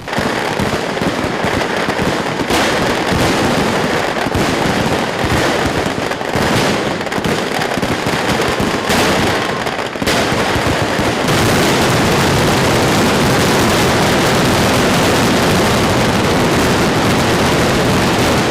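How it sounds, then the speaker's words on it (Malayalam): Loud, dense temple-festival fireworks set off by the Paramekkavu side at 7:10 am go off in rapid succession, a continuous barrage of bangs and crackles that never lets up. "രാവിലെ 7:10-ന് ആദ്യം പാറമേക്കാവ് വിഭാഗം വെടിക്കെട്ടിന് തിരികൊളുത്തി"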